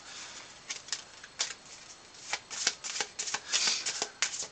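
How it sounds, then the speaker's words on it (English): Board game cards for Lord of the Rings: Fate of the Fellowship being shuffled up close, quiet riffling bursts and soft flicks repeating irregularly with short pauses between. "So, I'm going to go ahead and shuffle this real quick."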